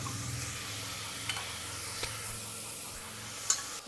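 Vegetable pieces for a soya bean curry sauté in a pan with a pinch of turmeric, a soft, steady low sizzle with faint stirring scrapes and a small clink near the end.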